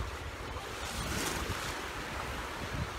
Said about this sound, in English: There's the beautiful Mediterranean Sea.